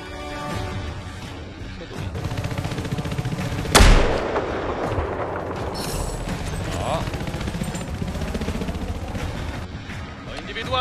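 Gunfire in the video game Battlefield 4 rattles in rapid bursts, with one loud blast standing out and continuing shots and clatter around it.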